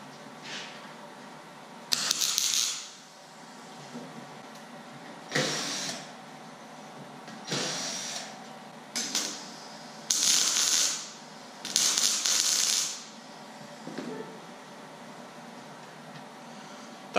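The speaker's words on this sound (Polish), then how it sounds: "Także przystępujemy do spawania." A welder tacks washers onto a car seat frame being adapted into an office chair, with about eight short bursts of crackling, hissing weld sound separated by quiet pauses.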